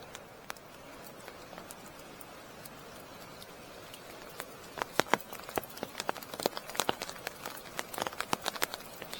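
Water drips from trees onto a pool at Offord after rain stops, scattered faint plops and patters that grow denser and slightly louder partway through, with no talking.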